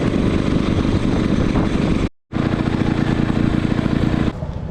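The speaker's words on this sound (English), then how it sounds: "I don't know if you can pick that up on the audio, the sound of the engine changing." Engine of a 109-year-old vintage motorcycle climbing a hill, a loud, steady thudding drone heard up close. It cuts out in a brief gap near the middle, resumes, then drops back toward the end.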